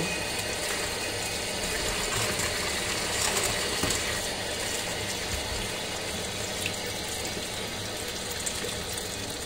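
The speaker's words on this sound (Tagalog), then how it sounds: "maghugas tayo ng prutas. Dahan-dahan ng tubig." Tap water runs steadily over a red apple being washed at a sink, a continuous close splashing hiss with small clinks and shifts as the fruit is turned under the stream.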